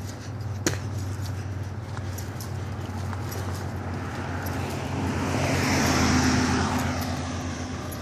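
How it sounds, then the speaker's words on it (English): Distant road traffic from US 40 and State Route 48 heard across a park in early spring, a faint steady wash of passing vehicles with one swelling pass and a brief click early on. "that's US 40 that you're hearing, and State Route 48 from the traffic right there."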